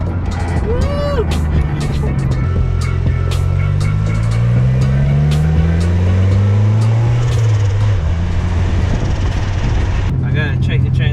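A turbocharged Honda Civic pulls hard through the gears, its engine note climbing in long rising sweeps with brief drops at each shift and turbo whistle and flutter on top. The sound is loud and close, heard from inside the car.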